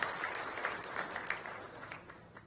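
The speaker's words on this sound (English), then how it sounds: "May we show our appreciation with a round of applause to the Honorable Finance Minister." Audience applause at a corporate quality-management event honoring a finance minister, a steady patter of many hands of moderate loudness that fades slightly toward the end.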